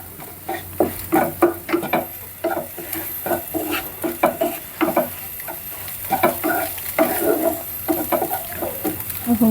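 Khichuri with vegetables and spices being stirred in a pot, a rhythmic series of scraping, clinking strokes over a soft sizzle, close and moderately loud.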